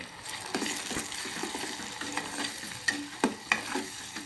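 Tomato pieces frying in a tempering of spices in a pan, with salt and turmeric added: a close, busy sizzle and spatter with wet stirring scrapes and a few sharper clinks toward the end, no voices.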